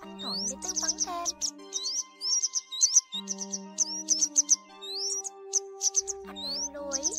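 Yellow wagtail calls repeat as a series of short, bright chirps and rising tweets, some of them overlapping, set over steady tonal background sounds.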